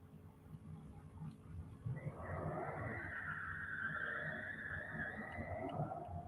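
Drag-race launch at Gainesville Raceway pitting a Chevy Blazer against a Ford Mustang, loud engine roar building to a sustained high rev with tire squeal, continuous and close.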